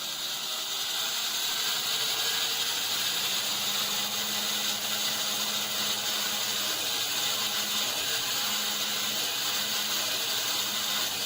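A sawmill cuts a big piece of wood outdoors, giving a continuous loud mechanical drone with a steady grinding, ratcheting texture throughout and no talk.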